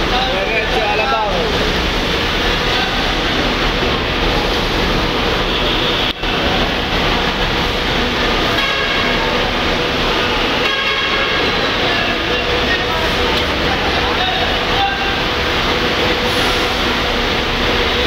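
LRT light rail train: a loud, steady rumbling roar of rolling cars that fills the whole stretch, with people talking over the noise.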